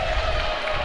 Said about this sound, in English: The Belgians cheering on